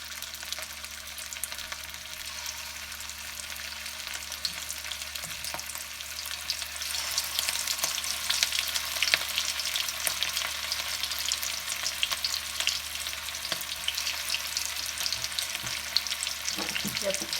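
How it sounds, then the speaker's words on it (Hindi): Gola kebabs fry in hot oil on low heat with a steady, close sizzle that crackles evenly and grows slightly fuller partway through, with no talking. "अब हम इसको फ्राई करेंगे। फ्राइंग के लिए हमने ऑयल लिया है, बिल्कुल ये गरम हो चुका है"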